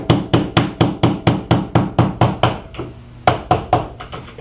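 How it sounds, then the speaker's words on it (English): A mallet taps sharply and rapidly against a window glazing bead to work it loose, about a dozen evenly spaced close knocks, a brief pause, then a few more strikes. "And you definitely want to use a mallet hammer on this."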